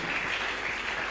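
A crowd at an evening church gathering claps steadily in a dense, continuous wash of applause lasting about a second, with no voices breaking through.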